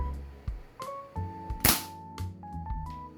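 A K35 spring airgun fires during a chronograph test, with one sharp, loud crack standing out among softer clicks and knocks from handling the gun nearby.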